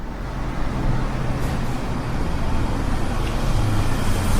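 A bus drives steadily along a road, its engine a constant low rumble mixed with broad traffic and road noise, close and unbroken throughout with no talking.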